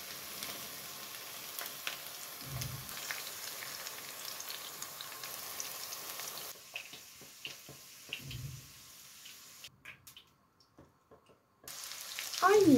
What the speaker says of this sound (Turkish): Patlıcanlarımı kızarttığım aynı tavama biberlerimi aktarıyorum.